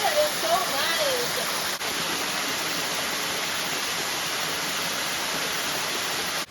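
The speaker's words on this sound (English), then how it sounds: "not a very big waterfall" A small waterfall in French Polynesia pours in a steady, loud rush of falling water that fills the whole clip, with a brief voice at the very start.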